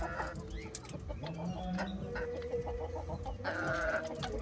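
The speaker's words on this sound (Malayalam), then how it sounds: "ഇതാണ് നമ്മുടെ ഓൾഡ് ലൈനേജ് കോഴികൾ" Old-lineage native chickens, including a six-year-old rooster, cluck and call in a farm yard, with soft repeated clucks and short calls heard faintly over a low background.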